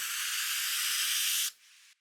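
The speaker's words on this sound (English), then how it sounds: "noise sweep. I've got a tape delay plugin on it" A bright, steady noise sweep hisses loudly for about a second and a half, then cuts to a fainter tail before stopping, dry and with no tape delay on it.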